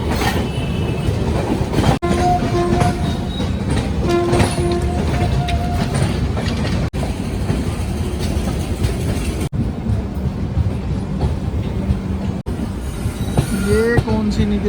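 A long express train rolls steadily past on the Indian railway near Samastipur. Loud continuous wheel rumble and clatter carry squealing, whining tones from the wheels, with brief sharp gaps as carriages pass.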